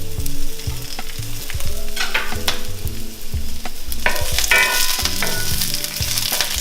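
Whole mushrooms frying in oil with chili, a loud close sizzle and crackle with occasional stirring clatter and spits, no voices.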